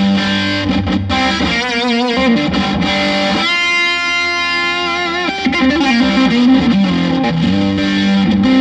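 A loud, driven electric guitar through a Brown HayMaker 50 with a boost pedal engaged plays sustained, saturated chords and notes with a thick, compressed tone, continuous throughout with no voices.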